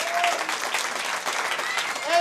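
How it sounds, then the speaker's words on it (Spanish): A short burst of audience applause at a party presentation, dense clapping from a crowd lasting about two seconds, with a voice briefly audible at the start and end. "¡Aplausos!"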